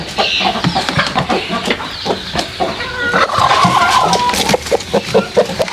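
A flock of backyard chickens in a city yard clucks and squawks loudly and continuously, with overlapping calls, some high and shrill, packed closely together and no talk over them.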